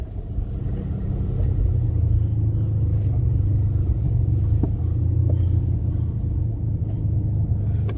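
Steady low engine rumble from a vehicle driving in second gear, loud and close, holding a constant drone throughout with no talk.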